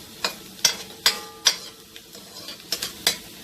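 Onions and curry frying in a pot while being stirred for Guyanese chicken curry: a soft background sizzle broken by about eight sharp scraping, clinking strokes of the spoon against the pot, close up, no talking.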